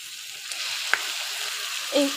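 Cut and washed small mixed river fish, including baila, tengra and gochi, go into hot spiced masala with a little garlic, setting off a steady close sizzle with a sharp clink and a later burst of frying.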